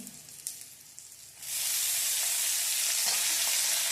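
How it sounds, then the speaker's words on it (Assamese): A loud, steady sizzle of tomatoes frying in hot oil bursts in after a quieter start and continues without pause. "বিলাহীখিনি অকণমান ভাজি থাকোঁ"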